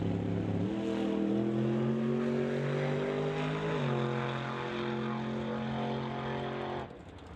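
A Flatliner Ford Maverick drag car makes a pass down the strip at an old-time drag event, its engine a loud, steady roar that climbs in pitch, drops briefly at a shift, then pulls on before cutting off near the end.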